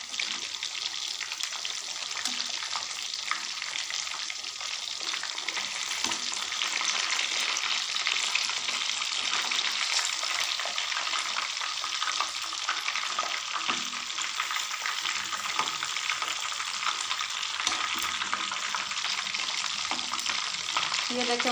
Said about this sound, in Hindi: 2 मिनट इस तरह फ्राई करते हैं